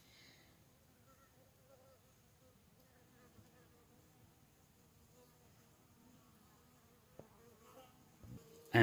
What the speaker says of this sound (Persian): اینا زنبور زرد این زنبور اصل نگاه کن